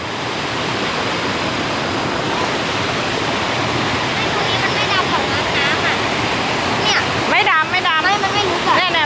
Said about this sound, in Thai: น้ำตกเสียงดังมากๆ นี่พยายามพูดแข่งกับน้ำตกนะคะ